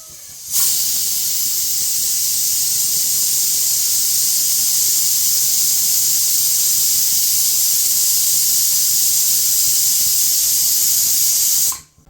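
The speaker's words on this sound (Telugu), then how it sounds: "ఇంకా కుక్కర్ అయితే పొయ్యి మీద పెట్టేశారండి ఇంకా అయితే విజిల్ వేయించేద్దాం" A pressure cooker of dal sitting on a stove releases a steady, loud jet of hissing steam that runs unbroken for about eleven seconds, starting and stopping abruptly.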